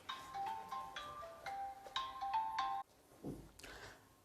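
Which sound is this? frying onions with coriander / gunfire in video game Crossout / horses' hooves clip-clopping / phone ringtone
phone ringtone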